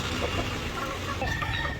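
Laying-breed breeder chickens cluck softly over a steady, noisy farmyard background, with a few brief higher calls standing out.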